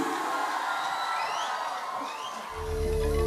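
An audience at a live stage show cheers and whoops for a young performer, with crowd noise and whistles filling the air before music swells in under it near the end.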